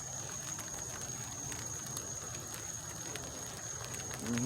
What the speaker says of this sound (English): the rain is starting up as well